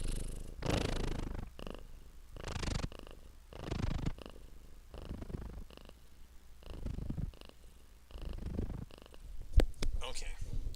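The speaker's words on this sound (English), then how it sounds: "You're purring." A pet cat named Missy purring close by, a soft steady rumble that swells and fades in repeated bursts, with a person talking quietly between them.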